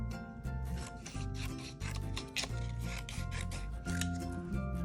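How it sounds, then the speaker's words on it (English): Scissors cut thin strips of paper for a children's craft project, giving a fast run of crisp, rhythmic snipping and rasping strokes that sound close and steady, with no talking. "Watch this, I'm gonna cut skinny strips."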